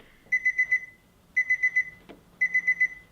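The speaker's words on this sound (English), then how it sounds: "the alarm doesn't even stop" An alarm clock beeps without stopping, sounding in fast bursts of four high electronic beeps separated by short gaps, repeated three times, loud and close with a faint knock in between.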